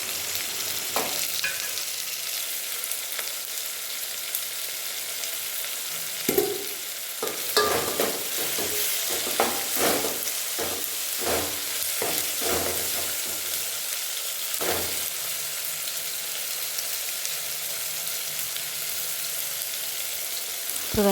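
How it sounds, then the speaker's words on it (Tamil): Onion, tomato and green chili sautéing in a pan, with a continuous close sizzle broken by repeated scraping stirs that cluster in the middle stretch, no voices. "இப்போ வெங்காயம், தக்காளி கூட இந்த பச்சை மிளகாய் சேர்த்து நல்லா வதக்கிடணும்."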